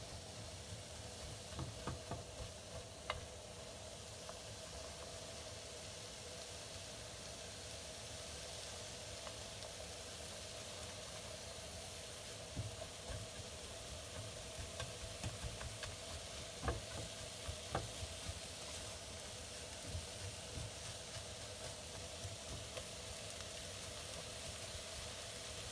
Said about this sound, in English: You can start to hear that sizzle